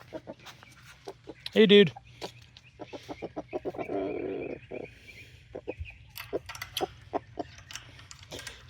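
Barred Rock chickens in a homestead coop cluck once, loud and close, in a short burst, with scattered rustling and faint bird sounds around it and a man's brief spoken greeting.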